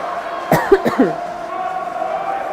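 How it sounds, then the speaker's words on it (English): A couple of short, sharp coughs close by, with a low murmur of crowd noise steady in the background. "when I cough, does it deafen people?"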